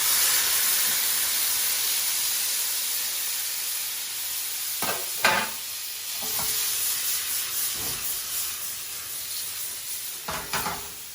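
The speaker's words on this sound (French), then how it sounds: "on a juste fait colorer notre viande un petit peu. On jette tous les légumes dessus." Vegetables tossed into a pan over a browned leg of lamb, a steady loud sizzle and hiss with several clattering stirs and scrapes breaking through.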